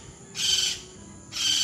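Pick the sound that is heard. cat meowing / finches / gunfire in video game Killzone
finches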